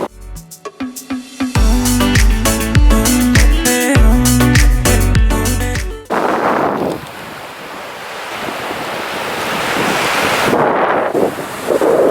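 Ocean surf at a Rhode Island shore rushes in as a broad, steady roar after a stretch of music, with wind buffeting the microphone throughout.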